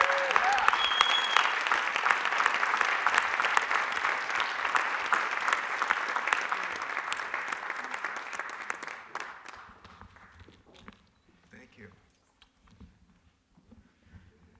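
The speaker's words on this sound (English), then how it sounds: "So a round of applause for Richard Bloom." An audience at an ocean microplastics speaker series applauds to welcome a speaker, a loud, dense wash of clapping from a room full of people that holds for about nine seconds, then fades to scattered claps and quiet.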